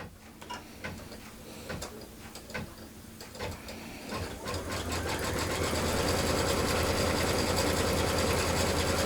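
A sewing machine stitches fabric for a basket, starting with scattered ticking clicks and then running steadily in a dense, continuous mechanical whir.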